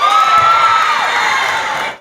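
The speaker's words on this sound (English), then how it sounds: "we get up and cheer for them" Loud basketball arena crowd cheering for a player, a dense roar with one high sustained shout riding on top, continuous for about two seconds before cutting off abruptly.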